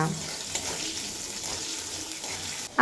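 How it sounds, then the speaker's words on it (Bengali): Salted potatoes fry in hot oil with a steady, close sizzling hiss. The hiss holds at an even level and ends in a sudden bump. "আর ওই তেলেই আলুগুলো ভেজে নেব আলুগুলো শুধুমাত্র লবণ দিয়েই ভেজে নেব"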